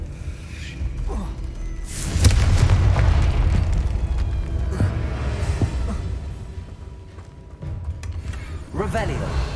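Confringo spell explosion in Hogwarts Legacy, a sudden loud boom with rumbling aftermath and debris, followed by further whooshing magical bursts; a voice calls out in the game beforehand.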